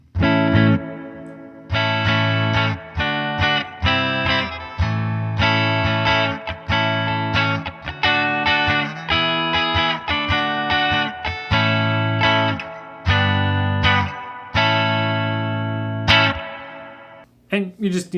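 Electric guitar with humbucker pickups runs through a BOSS EQ-200 graphic EQ pedal shaped toward a semi-hollow tone, playing a series of bright, loud chord strums with short gaps between them and no voice.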